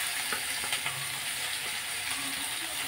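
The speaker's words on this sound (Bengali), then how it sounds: "পেঁয়াজটা ভাজি ভাজি হবে" Chopped onions frying in oil with whole cinnamon in a pan for a cabbage fish kalia, a steady close hiss of sizzling with a few soft stirring clicks and no talking.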